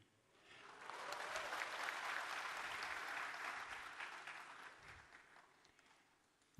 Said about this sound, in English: Don't applaud too much, it's not finished.